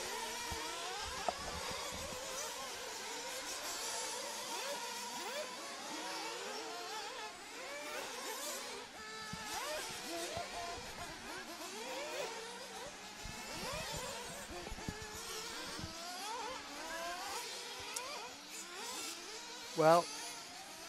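Small RC race cars finish their qualifying laps at an Italian RC Grand Prix round, their high, wavering engine whine buzzing steadily throughout under ongoing commentary voices, with a brief louder burst near the end.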